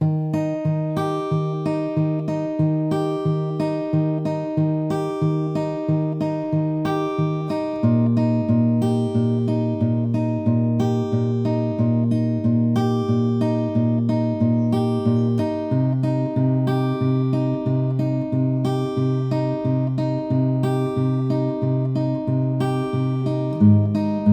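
Acoustic guitar fingerpicked in a steady, even pattern of plucked notes over changing bass tones, close and clear for the whole stretch, no voices.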